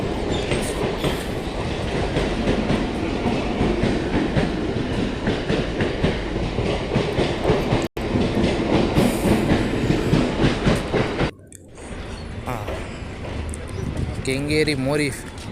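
Local train wheels clatter steadily along the tracks in Chennai, loud and close, with a rhythmic clack; it cuts off abruptly near the end as a voice speaks.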